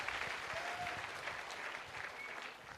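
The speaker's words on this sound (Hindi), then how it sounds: "तो एक बार मेरे गुरुओं के लिए एक बार जोरदार तालियां होनी चाहिए" An audience at a Diamond celebration event in Jaipur claps for the speaker's teachers, a continuous wash of applause heard at a moderate distance.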